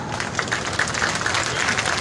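An audience at a poetry recital (kavi sammelan) breaks into applause, a sustained, fairly distant wash of many hands clapping at even volume across the whole stretch.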